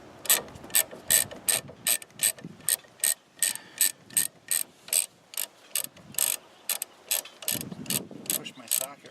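A ratchet socket wrench works on a 2005 GMC Envoy front strut, clicking in a steady run of about twenty sharp, close bursts with brief pauses between strokes.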